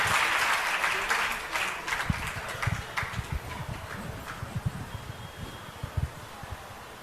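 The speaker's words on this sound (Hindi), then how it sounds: "एक बार जोरदार तालियों के साथ उन्हें निमंत्रित करें" A crowd at a Jain religious gathering claps steadily, dense at first and then thinning into scattered, uneven claps.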